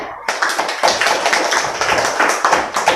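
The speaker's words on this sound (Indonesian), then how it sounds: "Kasih tepuk tangan untuk kelompok diameter." Schoolchildren in a classroom clap together for a student group, a fast, loud, close patter of many hands that continues steadily, with a faint voice briefly mixed in.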